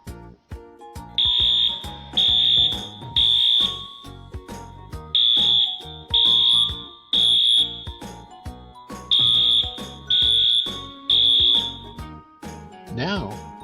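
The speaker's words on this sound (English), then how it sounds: "Let's first listen to what an evacuation alarm sounds like." A high-pitched electronic evacuation alarm sounding in repeated short bursts, about ten beeps at a steady pulse, with background voices and noise underneath.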